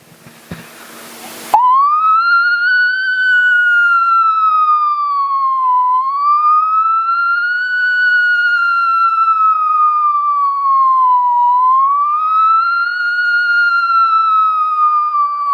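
A voice imitates a fire engine siren as a mimicry comedy act, holding one loud, continuous wailing tone that rises and falls slowly in repeated cycles after a brief noisy start.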